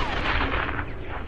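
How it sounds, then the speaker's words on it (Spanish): A big explosion from a bridge blown up in Sniper Elite V2 booms out loud and close, then rumbles and decays over a second or so. "Toma, darle un like a la explosión."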